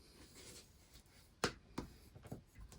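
Bone folder pressed and dragged along paper to crease folds for a four-pocket stack, a few short scraping strokes at moderate volume with quiet pauses.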